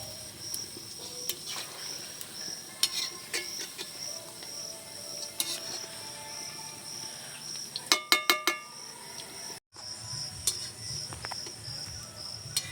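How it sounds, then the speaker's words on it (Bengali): Fritters fry in oil while being stirred, a steady soft sizzle under faint shrill background tones. Small clicks from the stirring are scattered throughout, with a brief quick run of taps near the end. "আমি এভাবে কিন্তু বড়াগুলো নেড়ে চেড়ে সব দিকটা একেবারে সুন্দর লাল করে ভাজবো"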